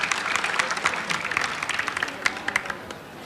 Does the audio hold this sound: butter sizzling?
no